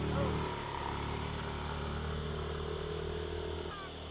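A vehicle engine working hard while climbing a steep S-bend in the afternoon, a steady droning hum held at a constant pitch, moderately faint and easing slightly near the end, with no clear talk over it.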